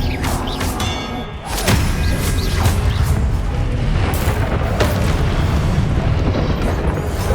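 Confringo spell blasts go off during combat in the Hogwarts Legacy video game. Heavy booming explosions and rumbling impacts fill the clip, loud and continuous, with a brief dip just before a fresh blast hits.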